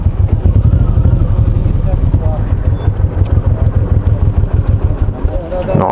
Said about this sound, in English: So my friends, as you may see, many motorcycles here.